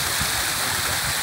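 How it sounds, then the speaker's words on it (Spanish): Small streams of water flow at the source of the Pelotas river, a dense, steady rushing and burbling close by with no voices. "Aquí llegan pequeños cursos de agua y comienza a tomar forma el cauce del río."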